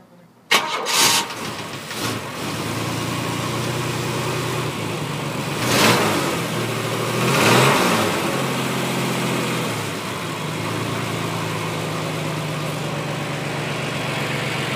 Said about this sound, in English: Jeremy, start this engine for me.